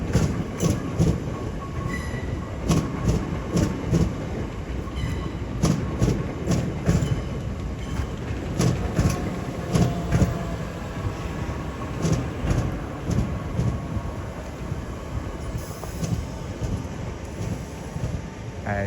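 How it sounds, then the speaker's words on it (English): A Class 377 electric multiple unit, coupled to a classmate, pulls out of a London terminus bound for Maidstone East. A rumbling rolling roar carries rhythmic clickety-clack wheel beats and faint squeals, with brief talk in the background. "As 377504 and its classmate sets up for its departure back out to Maidstone East."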